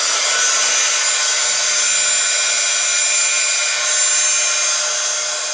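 Heat tool warming foundry wax on an embossed card, a steady, loud, close blowing whir like a hair dryer that runs without a break.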